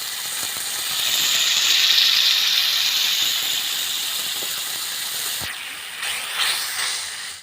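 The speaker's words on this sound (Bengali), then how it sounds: "এবার ভালো করে মশলাটা কষে নিচ্ছি" Chicken curry spice paste frying hard in a pan, a steady broad hiss of sizzling that swells and then eases, with a few scraping stirs near the end.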